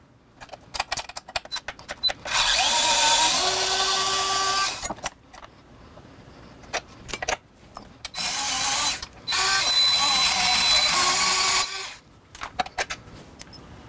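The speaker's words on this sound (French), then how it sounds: "je vais tenir avec un 10 mm de ce bord-ci et je vais dévisser de ce côté ici" A sway bar bolt on a Baja Ron sway bar installation is unscrewed with a 10 mm tool, producing several bursts of rapid close-up ratchet clicking separated by short pauses and scattered mechanical taps.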